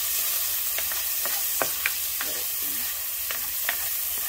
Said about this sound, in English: We gotta keep stirring this now